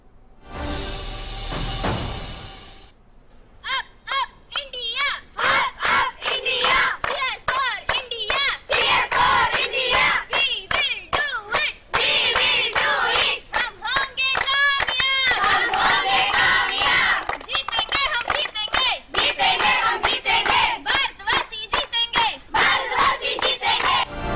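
Children cheering for Team India, shouting and clapping in a loud, lively crowd with rhythmic claps and bursts of yelling throughout, after a short quieter opening.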